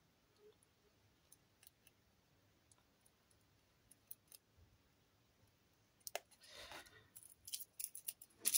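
Scissors cutting paper while making vintage photo embellishments for scrapbooking, faint sparse snips at first, then a denser burst of crisp cutting and crinkling near the end, close and quiet with no talk.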